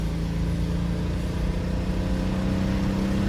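A 1994 BMW 325i inline-six misfiring on only four of its six cylinders, revving at full throttle with a rough, uneven, loud continuous drone.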